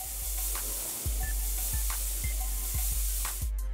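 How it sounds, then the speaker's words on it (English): Steady sizzling of Brussels sprouts charring in a hot pan, a constant hiss with soft pops and clicks, fairly quiet and uninterrupted. "I like them a little bit charred, so like they're crispy and not soggy."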